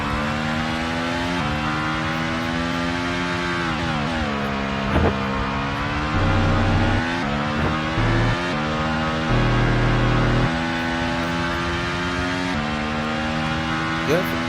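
Formula One car engine in a career mode racing game at the Sao Paulo Grand Prix, a loud steady high-pitched whine rising and falling through gear changes across the whole lap segment.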